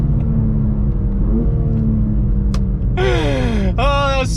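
A 720whp 2023 BMW M2 rumbles at idle, then launches in a first gear pull, the engine screaming upward in pitch with quick shifts while the wheels spin, loud and close inside the car.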